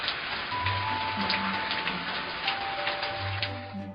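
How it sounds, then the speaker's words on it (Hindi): Heavy cartoon rainfall pours as a steady, dense hiss throughout, loud and close, with faint tonal music lines running beneath it and no voices. "बहुत जबरदस्त बारिश होने लगा।"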